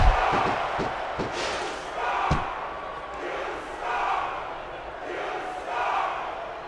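A wrestling arena crowd in WWE Smackdown vs Raw 2006 roars and chants in swelling waves, with a few sharp thumps early on, fairly distant and steady.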